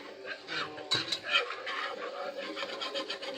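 Scraping and rubbing of a spoon stirring a dark roux in a pot for a shrimp and potato stew with smoked sausage, a close, uneven rasp with a few clinks against the metal.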